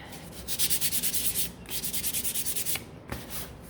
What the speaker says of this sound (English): I'm just gonna give these a quick sand.